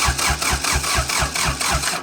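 Kubota B2150 tractor engine cranking in a steady rhythmic churn, about four pulses per second, loud and close with no talk.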